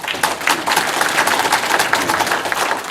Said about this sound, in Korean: 과장님과 팀장님께 한번 응원의 박수 한번 보내주세요